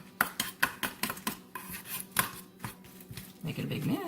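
A spoon stirring deviled egg filling with mayonnaise in a bowl, a rapid series of close clinks and taps against the dish, fairly regular at first then settling into softer scraping.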